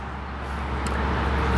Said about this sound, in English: Big trucks loud.